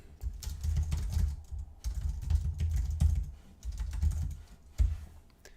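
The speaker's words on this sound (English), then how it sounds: "I'm unable to keep up with your typing speed." Fast, steady typing on a computer keyboard during a coding session, with continuous rapid key clatter and soft thuds in short unbroken bursts and no talking.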